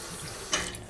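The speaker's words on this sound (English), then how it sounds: "Rinse my hands quickly." Tap water running briefly into a kitchen sink as hands are rinsed between cooking steps, a short close splash that swells midway and then settles.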